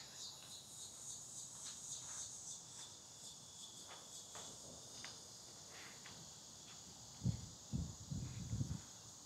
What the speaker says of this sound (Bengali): এদিকে ঝিঝি পোকার ব্যাপক শব্দ